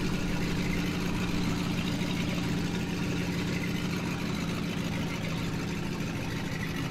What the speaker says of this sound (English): It sounds more like a gas engine to me than it does a diesel